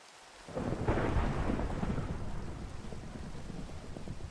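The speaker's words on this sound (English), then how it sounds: "This ain't your typical rain, it's a thunderstorm." A rolling video game thunderstorm in Minecraft: a deep rumble swells after a quiet start, with steady rain hissing throughout, loud and close, no voices.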